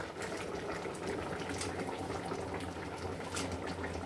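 Bengali rohu fish curry with papaya and potato simmering in a pot, a steady soft bubbling and hiss throughout, close and fairly quiet, with no talk.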